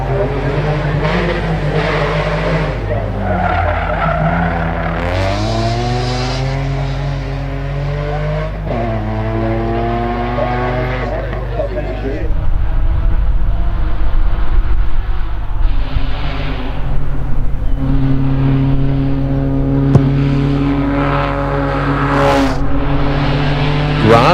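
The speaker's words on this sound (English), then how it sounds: "In his Mark 1 Escort, getting through that hairpin quite nicely, coming around the last corner up towards the finish line." A Mark 1 Escort race car at a hillclimb works through a hairpin and the last corner toward the finish, its engine rising and falling in pitch with shifts, then rasping louder and nearer before sustained high revving, with commentary talk over it.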